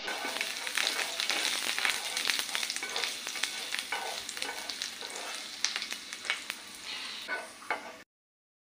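Cooking oil frying in a pan, a steady close sizzle with crackling pops and occasional stirring scrapes, continuing alone for about eight seconds before cutting to silence.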